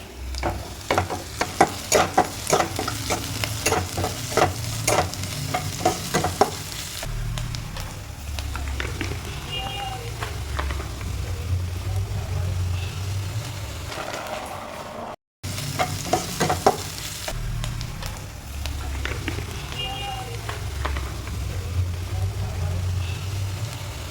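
Onion and garlic fry lightly in a pan with capsicum and green chili added, giving a steady sizzle with clattering spatula stirs and scrapes, dense early, softer later after a brief cut.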